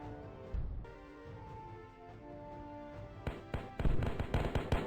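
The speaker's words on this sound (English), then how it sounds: "when you activate them, of course, just by clicking on them, they blow up and absolutely annihilate the enemy" Mines exploding in the Master of Fortresses flash game, a low muffled boom early on, then a rapid burst of sharp crackling blasts toward the end over a quiet droning game background, with no talking.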